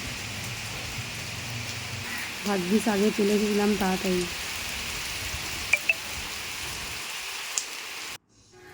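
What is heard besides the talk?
heavy rain starting to fall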